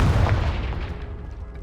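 A Confringo explosive spell blast in Hogwarts Legacy lands as a single deep, booming burst up close, then rumbles and fades over about a second and a half.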